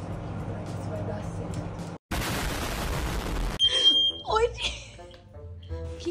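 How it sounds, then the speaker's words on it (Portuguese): A fire alarm set off by a microwave oven in use, heard as a steady high beeping tone near the end, mixed with a burst of loud broadband noise and scattered clatter. "simplesmente ele ativou o alarme de incêndio"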